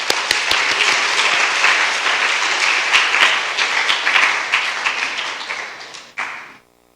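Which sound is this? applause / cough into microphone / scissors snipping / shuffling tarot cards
applause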